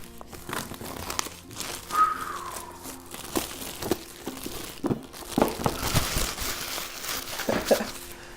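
Plastic wrap on a board game box being cut and pulled away, irregular crinkling, tearing and scratchy rustles close by, fairly quiet, no talk.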